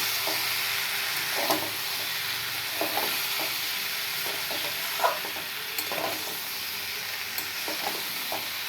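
Curry sizzles steadily in a pan with a soft, even hiss, while a utensil stirs it and makes scattered light scrapes and taps; the sound is fairly quiet and there is no talking.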